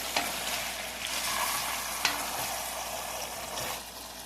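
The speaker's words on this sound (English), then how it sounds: "And now we're going to stir everything together." A spoon stirs beef stew in a hot pot, with a continuous sizzle and scraping close up, punctuated by a few sharp knocks against the pot, and no voices.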